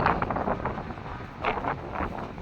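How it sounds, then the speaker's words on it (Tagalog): Gusty wind buffets the microphone in rough, roaring bursts that swell and ease over a couple of seconds, with no voices. "Windy day."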